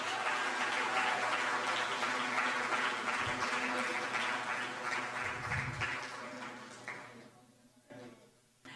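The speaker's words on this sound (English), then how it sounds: "A round of applause for all of our 30 years." An audience at a general meeting applauding 30-year anniversary honorees: a thick, hissing wash of many hands clapping that holds steady, then thins and fades out over the final few seconds.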